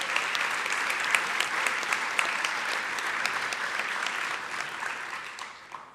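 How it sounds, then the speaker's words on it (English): A school audience applauds student advisory groups, a steady wash of dense clapping that holds for several seconds before thinning out toward the end. "So a round of applause for those groups,"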